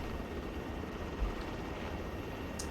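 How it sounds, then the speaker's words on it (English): Helicopter in the Arma 3 video game, a steady low rotor drone filling the whole stretch at constant loudness, with no speech over it. "I don't know what's wrong with this chopper."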